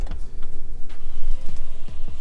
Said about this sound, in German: Da hört man auch schon die Spritpumpe